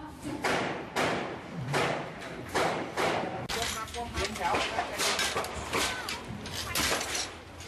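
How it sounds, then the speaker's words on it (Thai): Repeated sharp bangs and heavy thuds ring out in rapid succession, gunfire and explosion-like blasts during a clash in Lak Si, Bangkok, loud and continuous, with a voice speaking over them. "ติดอยู่กลางแนวปะทะที่มีทั้งเสียงปืน และเสียงดังคล้ายระเบิดดังขึ้นต่อเนื่อง"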